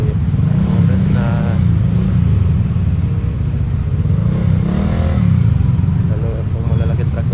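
A small motorcycle rides through traffic beside large trucks, its engine a loud, continuous droning hum that swells and eases, under a steady wash of road noise.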